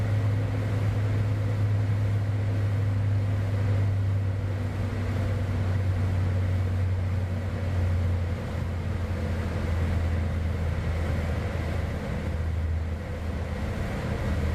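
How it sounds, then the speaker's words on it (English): Cessna Citation X jet engines winding down in a flight video game, a steady low droning hum with tonal whine that slowly shifts and drops over the stretch, continuous and fairly loud with no talking. "With the wind down of the engines"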